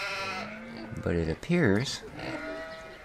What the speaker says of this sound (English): Every animal noise imaginable out of this building.